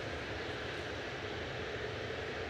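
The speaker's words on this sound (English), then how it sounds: "So the A380 lumbers in." An Airbus A380 airliner taxiing at Manchester Airport in a fairly robust breeze gives off a steady, broad engine roar that holds even and continuous throughout, with no voices.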